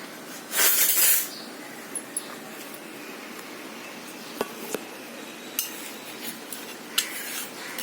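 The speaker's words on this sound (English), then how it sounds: "Now while removing this, you have to use the spatula." A spatula scrapes under a makki ki roti, a cornmeal flatbread, to lift it off the hot pan, making one loud rasping scrape followed by a few faint clicks and taps against the metal.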